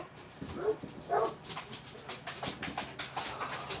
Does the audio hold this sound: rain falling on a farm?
no